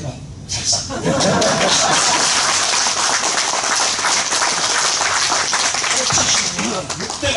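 Audience at a Korean political speech breaks into loud, dense applause mixed with chuckling and laughter, steady for several seconds, with voices audible in the crowd.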